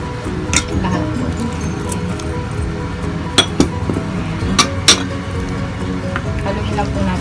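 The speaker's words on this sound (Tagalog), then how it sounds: "Haluin lang po natin siya mabuti." Pancake batter ingredients for Korean chijimi are mixed in a bowl, with a low steady swishing broken by several sharp clinks of utensil against the bowl, heard close up.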